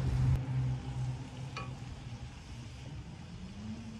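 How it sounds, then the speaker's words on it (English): Onions caramelizing in a pan for goulash give a steady, soft sizzle and crackle, with a brief clink of a utensil near the start. "We're gonna wanna get some nice caramelization on all these onions"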